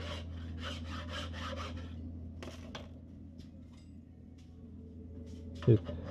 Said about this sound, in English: And then also some touch up with a hand file.